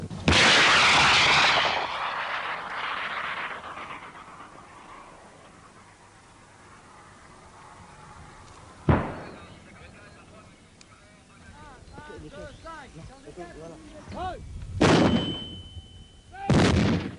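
French Army training fire in Chad, 1983: a heavy blast opens with a rumbling tail, then further sharp booms of 105 mm cannon and 120 mm mortar fire echo at intervals, with distant voices between.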